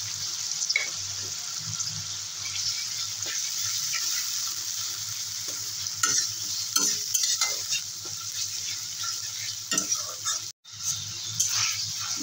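A spice paste of ginger, cumin and garlic, loosened with a little water, fries in a pan for a fish kalia. A steady close sizzle runs throughout, with intermittent spoon scrapes, clinks and a brief break.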